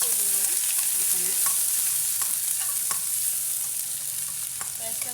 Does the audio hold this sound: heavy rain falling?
no